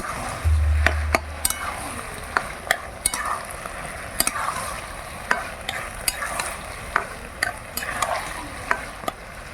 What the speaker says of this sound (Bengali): এবার দিয়ে দিচ্ছি বেটে রাখা গরম মশলা ভালো করে মিশিয়ে নেব